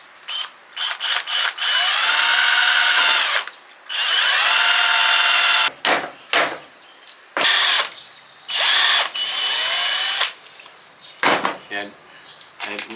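A power drill whirs into wood in several bursts, its worn tip starting to break, some bursts long and some short, with brief quiet gaps and small mechanical clicks between them.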